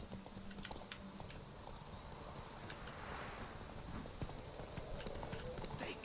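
Horse hooves clip-clop at a steady gallop through open terrain in The Witcher 3, a rapid continuous rhythm under a soft wind-like wash, moderately quiet and without talk.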